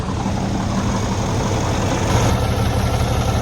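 A semi truck's diesel engine runs at a close, loud, steady idle, a dense rumble with a slight shift in tone midway and no talking over it.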